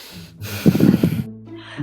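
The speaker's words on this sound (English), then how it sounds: "All of a sudden, I started breathing hard." Hard, heavy breathing with snorting, gasping breaths that swell loud in the middle and then fall away, heard alone with no talk.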